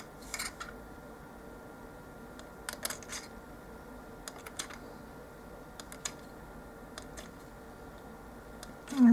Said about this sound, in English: I'm just cutting some strips